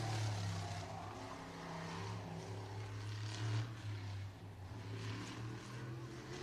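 A race car runs a qualifying lap at F8 Showtime Speedway, its engine a sustained distant drone that swells and fades as it rounds the oval, with faint background voices.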